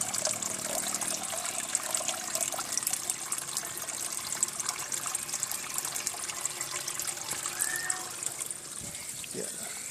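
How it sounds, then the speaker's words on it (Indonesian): Water drains out of a bell siphon outlet pipe into the collection tank of an aquaponic setup. It makes a steady, fairly loud trickling gush throughout, with a voice speaking briefly over it. "Air keluar. Kembali ke bak penampungan."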